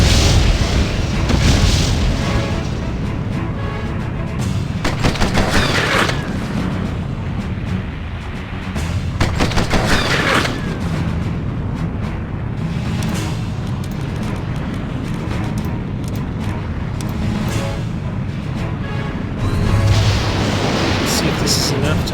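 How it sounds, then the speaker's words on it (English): Rocket explosions in the Septerra Core video game, a steady barrage of loud booming blasts rolling on for the whole stretch, dense and heavy with little letup. "Rockets."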